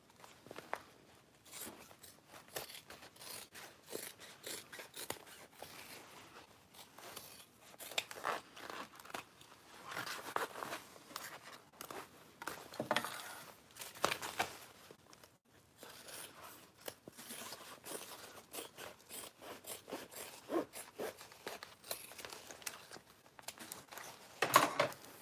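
Scissors trimming excess fabric along the sewn edge of a tote bag, a long run of quiet, irregular snips and crisp cloth rustles close by, with no talking.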